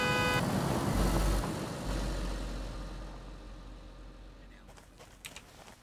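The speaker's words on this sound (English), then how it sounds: "Here comes a car." Car engine in the video game DayZ, a loud rumbling drone at first that gradually fades and thins, with a few faint clicks near the end.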